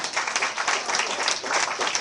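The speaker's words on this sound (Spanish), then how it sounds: "Denle un aplauso a Cristo en esta hora." A church congregation bursts into brisk, dense applause, many hands clapping close and loud in a short, steady burst.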